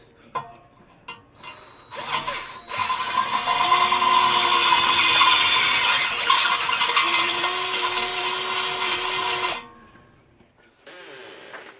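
A loud, close power drill whines steadily for several seconds drilling holes in barrels, with a squealing, grinding tone, then cuts off abruptly.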